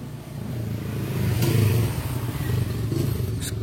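A Honda Supra garden motorcycle with a sluggish throttle revving loudly up close, the engine note rising and holding with a rattling clatter over a few seconds.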